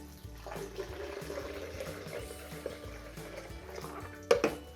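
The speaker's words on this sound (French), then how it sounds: "Et je vais rajouter 750 ml d'eau." Filtered water, about 750 ml, is poured into a container for homemade hemp milk, giving a steady trickling, splashing flow with a few louder splashes near the end, no talk.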